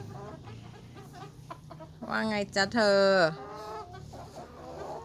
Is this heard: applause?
no